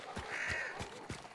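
Crows caw in the Hunt: Showdown video game, a few harsh repeated calls in an uneven rhythm, fairly faint and heard alone.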